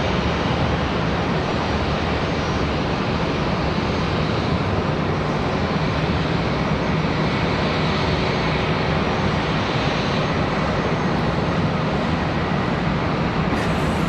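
A jet airliner takes off from runway 36 at Charlotte Douglas International Airport, a loud, steady roar of engine noise that holds broad and constant for the whole stretch without fading.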